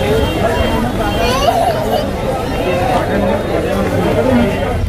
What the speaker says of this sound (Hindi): बहुत भीड़ है बाप रे बाप